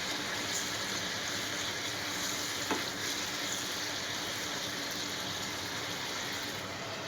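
Marinated chicken pieces frying in a covered pan, giving a steady, even sizzle that hisses continuously throughout, with one brief scrape or knock near the middle.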